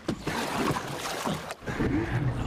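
A jet ski engine in the video game Uncharted: Drake's Fortune, a steady rushing drone with water spray. It dips briefly at about a second and a half, then picks up again.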